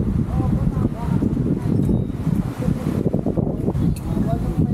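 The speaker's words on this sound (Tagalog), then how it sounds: "makalakas ang hangin." Strong gusting wind at Dingalan buffets the microphone in a continuous low roar during a group ride, with people talking underneath.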